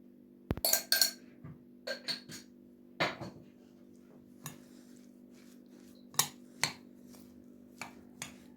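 A spoon clinks against a bowl while oil and chili flakes are mixed for spinach börek, with sharp intermittent taps at close range over a low steady hum and no talking.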